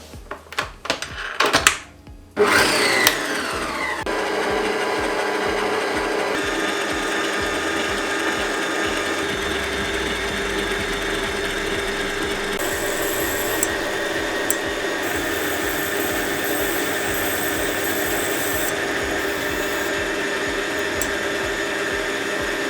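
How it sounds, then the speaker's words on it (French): A stand mixer whips egg whites for a French lemon meringue choux recipe, giving a steady, loud motor whir with a metallic whisk rattle that runs continuously after a few clattering bumps at the start. "je viens verser mes blancs d'œufs dans mon robot et je les fais monter"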